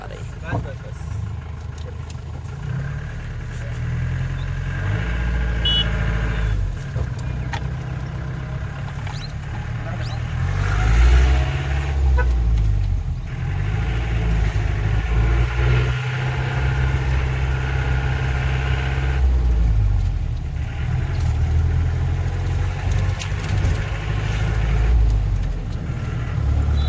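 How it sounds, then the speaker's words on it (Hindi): Mahindra Jeep CJ 500 MDI diesel engine running and approaching outdoors, a low rumbling drone that swells and dips over nearly half a minute, with people talking over it. "कार आ रही है।"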